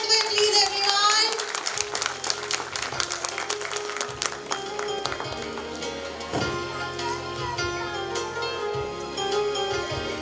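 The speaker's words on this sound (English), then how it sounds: "Clap for Adway, please, everyone." A crowd at a school annual function applauds a prize winner from senior KG, dense sustained clapping over music that tapers slightly toward the end.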